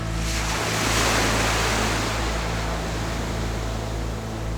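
Ocean surf at super high tide on a Thai island beach washes in a loud, continuous roar, with wind buffeting the microphone and no voices.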